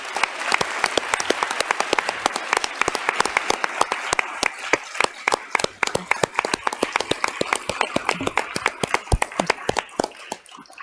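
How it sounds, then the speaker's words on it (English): An awards-evening audience applauds its three honorees with sharp, closely packed hand claps that run for around ten seconds, staying lively and fairly near throughout. "can we give one more round of applause to our three amazing"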